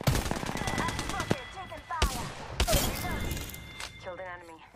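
Rapid automatic gunfire rattles in Apex Legends in quick close bursts, with sharp single shots and clattering impacts, while voices talk over the shooting.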